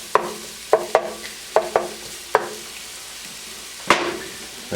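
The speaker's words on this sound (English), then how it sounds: "Get a nice sizzle on all that." Aromatics sizzle in hot oil in a pan while being stirred, with several sharp clattering knocks of a utensil against the pan over a soft frying hiss, close and fairly loud.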